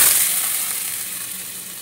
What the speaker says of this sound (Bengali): আর এই পাশে কুমড়ো আলুটা পাঁচফোড়ন দিয়েছি তেলে